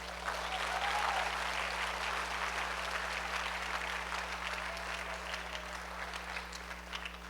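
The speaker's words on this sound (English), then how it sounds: "Give it up for them, guys." Steady, dense applause from a large audience at a dance performance, sustained throughout without pause, with a low constant hum underneath.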